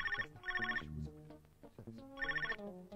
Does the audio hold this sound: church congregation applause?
no